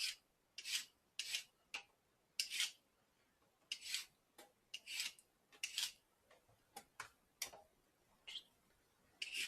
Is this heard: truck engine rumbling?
no